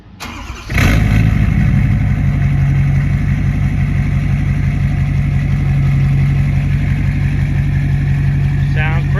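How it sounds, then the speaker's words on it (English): A 2017 Ford 6.7 Powerstroke diesel truck without a muffler starts on a mild 55-60 degree morning, with a brief crank, then a sudden loud catch and a steady, throbbing close idle. "We'll go ahead and give you a start up right quick"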